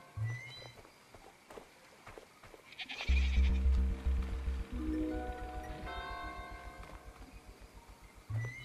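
Sheep bleating in the Sword and Sworcery video game, several drawn-out bleats with clip-clop footsteps and rising tonal game sounds, fairly loud, with no talking.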